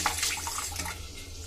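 Tap water runs steadily into a bowl of soaked mung dal as it is washed, giving a close, splashy gush with soft trickling.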